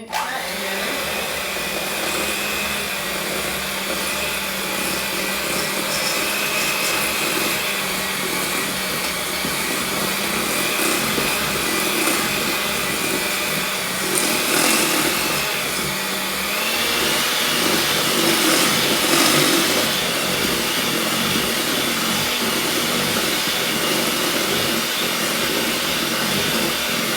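Electric mixer blending chocolate cake batter, a steady continuous motor whine with slight shifts in pitch and load as the beaters move through the mix, close and fairly loud, no talking.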